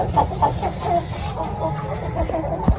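Ayam Cemani hens and a rooster in a rooftop poultry setup in Faisalabad, giving repeated close, moderately loud clucks in an irregular rhythm, with one sharper low squawk near the end.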